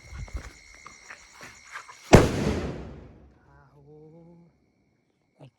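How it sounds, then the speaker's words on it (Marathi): A single firecracker bursts with a sharp, loud crack at night in a village, its boom rolling and echoing away over a couple of seconds, set against quiet background sounds and no talk. "आता चौथा फटाका आहे, बघूया."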